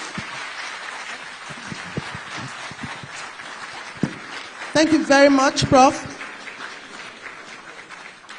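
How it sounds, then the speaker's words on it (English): Audience applause at a Nigerian public lecture on democracy, a long spread of clapping that runs under someone speaking into a microphone and then fades while he keeps talking. "thank you for that warm applause"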